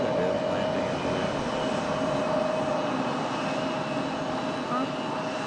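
A steady, loud jet roar comes from an American Airlines Boeing 737-800 landing on runway 5 right at Raleigh-Durham International in gusty wind, holding an even rumbling wash throughout.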